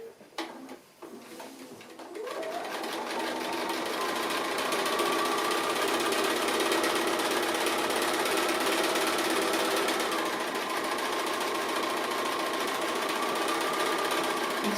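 Sewing machine stitching a cat appliqué, starting after a few handling clicks and then running continuously at a steady, close, loud whir.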